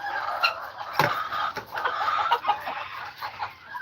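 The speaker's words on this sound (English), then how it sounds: "We've got 12 chickens that we're trying to breed here." Chickens cluck steadily at close range, overlapping calls in a continuous farmyard chatter, with an occasional sharper squawk.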